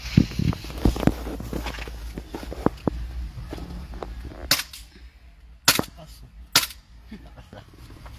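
A Sig Sauer airsoft gun fires a few sharp, loud cracks, clustered in the first seconds and then three spaced shots near the end, with handling clicks and someone speaking between them.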